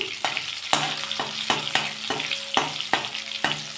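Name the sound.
frying vegetables and spices in oil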